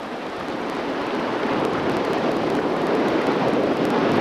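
Atlantic surf rolls onto a rocky shore in Eleuthera, Bahamas, a steady loud wash of breaking water with wind rumbling across the microphone, building slightly louder and continuous throughout, no voices.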